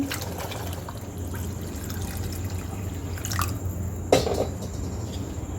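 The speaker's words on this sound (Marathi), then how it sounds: "भरपूर पाणी टाकायचं आहे" Water poured into a pan of chana poha being cooked in a home kitchen, heard as faint drips and trickles over steady background hum, with a brief louder splash near the end.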